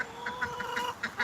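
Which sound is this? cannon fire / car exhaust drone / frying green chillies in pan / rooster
rooster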